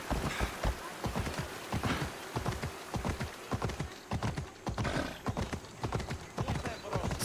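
A horse in Assassin's Creed Odyssey trots and gallops with rapid, continuous hoof clip-clops against a wash of ambient game noise, the steady beat carrying close and clear throughout.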